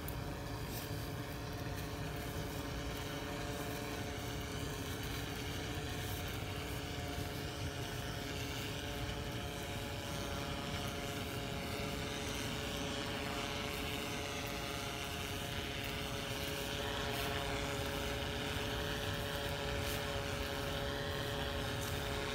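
A DJI M210 drone hovers and flies over an open field, its steady propeller whine and hum continuous and fairly loud throughout, with no talking.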